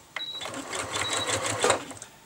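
Sewing machine stitching a zigzag in place, moving back and forth, with a quick busy mechanical clatter close by and faint rhythmic tapping throughout.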